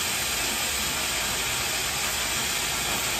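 A domestic pressure cooker's whistle lets off a steady, loud, continuous hiss of escaping steam throughout, harsh and unbroken, close to the microphone with no voices.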